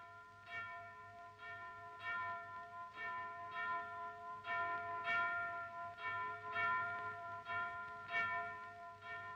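Easter church bells in Cyprus, recorded in 1946, ring out in a steady, overlapping peal, each strike ringing on with bright, sustained tones, nearby and fairly loud.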